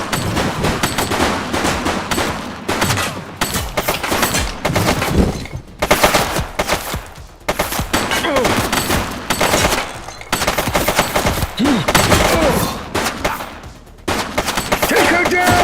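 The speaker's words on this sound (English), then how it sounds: "Oh, he's shooting!" Rapid bursts of automatic gunfire and single shots ring out in a cops and robbers video game, loud and nearly continuous with brief pauses, while players shout over the shooting.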